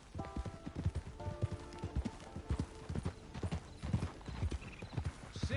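Horses walking in Red Dead Redemption 2, a steady, fairly faint clip-clop of hooves in an even walking rhythm, with brief snorts and a few soft voices in the background.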